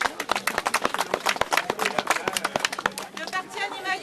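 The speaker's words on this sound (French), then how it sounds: "Nous pouvons les applaudir encore une fois." A small outdoor rally crowd at Rang-du-Fliers claps in a steady run of sharp, close, fairly loud claps for several seconds, with crowd voices chattering underneath as the clapping thins out.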